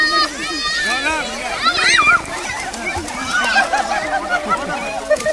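Children playing and splashing in water at a village festival, with excited kids' voices and shouts over intermittent sloshing and splashes, lively and close.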